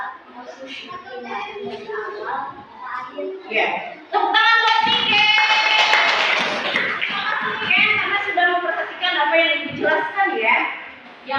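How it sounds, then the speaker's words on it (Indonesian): Schoolchildren in a classroom clap their hands together, mixed with a teacher's and children's voices and a burst of excited chatter midway. "Tepuk tangan buat Nike."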